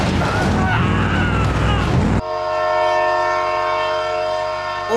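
A train in the BeamNG driving game sounds its horn loudly in long, sustained blasts after a burst of loud rumbling crash noise, the horn holding steady and close for several seconds.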